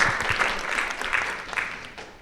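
Audience clapping after presentations at an artist roundtable talk, a short burst of scattered claps that fades over about two seconds.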